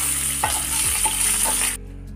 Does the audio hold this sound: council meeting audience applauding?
no